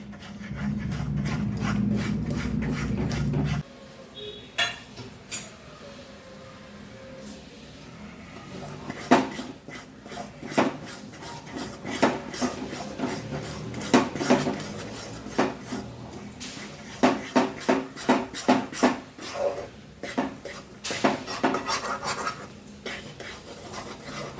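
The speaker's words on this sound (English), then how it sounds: "You have to go on stirring it." Thick Mysore Pak mixture of ghee, sugar and gram flour being stirred in a pan for the Diwali sweet, with repeated scraping and clinking strokes of a spoon against the metal, irregular and close, growing busier toward the end.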